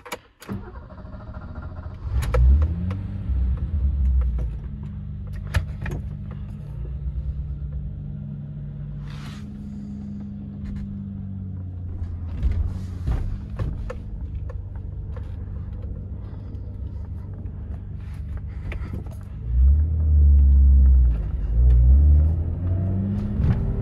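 A 1986 BMW 325e with freshly repaired transmission and new gear oil drives along, its engine rumbling steadily under load, with brief lulls and a loud low surge near the end as it pulls through gear changes.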